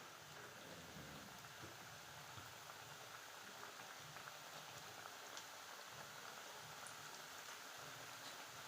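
Banana shankarpali pieces frying in hot oil over medium heat, a steady dense sizzle and crackle holding evenly throughout with no pauses.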